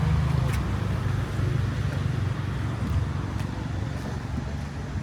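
A modified Maruti Swift car rolls along a road, its steady tyre and engine rumble filling the scene at moderate level, with light wind and no clear speech.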